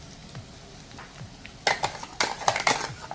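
Ground masala paste for a dried Bombay duck curry is sautéed in oil in a pan, with a quiet stretch giving way to a run of sharp scraping and clinking spoon strokes against the pan.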